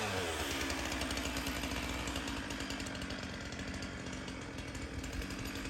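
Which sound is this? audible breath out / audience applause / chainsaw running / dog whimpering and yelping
chainsaw running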